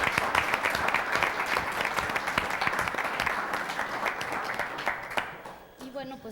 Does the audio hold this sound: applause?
yes